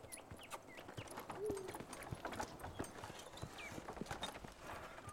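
Hooves clip-clop in a steady walking rhythm as a horse is led away at night near a forest, moderately close, with faint outdoor ambience and occasional bird calls.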